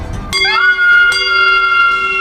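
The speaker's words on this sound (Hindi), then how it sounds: "चौकीदार ने जेब से एक पीतल की घंटी निकाली और जोर से बजाई" A single bright strike of a brass bell rings out loudly and sustains with a clear metallic tone that slowly fades.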